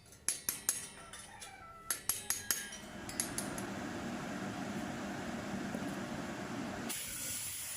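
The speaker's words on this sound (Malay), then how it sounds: "Ini merupakan satu lagi proses cucian, iaitu dengan menggunakan semburan pasir." Sandblasting a forged metal rod: a few sharp metallic clanks at the start, then a loud, continuous rushing hiss of sand spray that keeps going steadily and rises briefly near the end.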